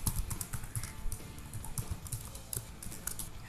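Typing on a computer keyboard: rapid, irregular clicking keystrokes, close and fairly quiet, continuing steadily with no talking.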